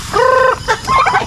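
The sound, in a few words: free-range turkeys gobbling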